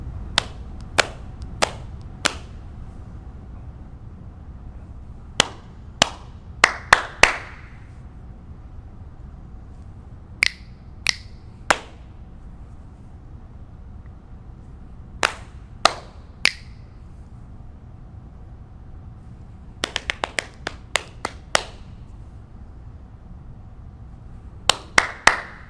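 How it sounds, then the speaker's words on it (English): Sharp, crisp claps and finger snaps in short rhythmic bursts separated by quiet pauses, patterns of three to six hits repeated as call-and-echo rhythms, with soft patting audible between the louder hits. "patting, clapping, or snapping, you just echo back"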